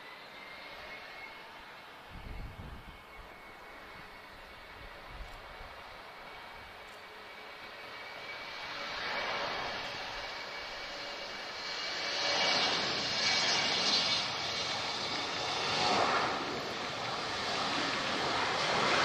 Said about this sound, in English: Embraer E190 is off to Dusseldorf, TAP Express.